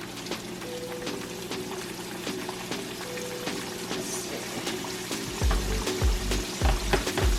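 Cube steak fries in a pan with a steady soft sizzle, then louder crackling pops and spatters break in near the end, close and without talk.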